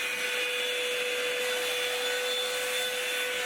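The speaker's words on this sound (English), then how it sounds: "You have to use something like a blow dry brush or a blow dryer and a brush" A blow dryer used with a brush on hair gives a loud, continuous whooshing roar with a steady high whine, holding evenly without a break from start to finish and no voices.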